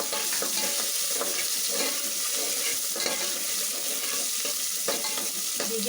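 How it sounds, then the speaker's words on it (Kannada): Sliced onion frying and sizzling in a pan for wedding-style sambar, a steady crackling hiss that runs the whole time with occasional stirring scrapes, close and with no talk. "ಹೀಗೆ ಫ್ರೈ ಆಗಿ ಸ್ವಲ್ಪ."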